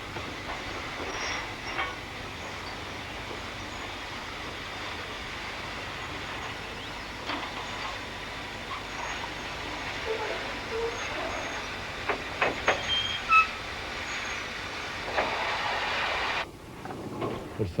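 A freight train rumbles steadily at a distance, with occasional metallic clicks and clanks from the wheels over a constant low roar.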